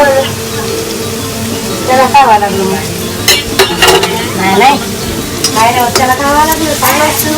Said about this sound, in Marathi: प्युरी टाकलेली आहे तेलामध्ये तर प्युरीला चांगला असं तेल सुटलेलं आहे तेल सुटेपर्यंत याला तळू द्यायचं